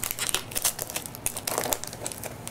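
Packing tape is pulled and pressed along the seam of a cast, making close, continuous crinkling and crackling with small tearing bursts.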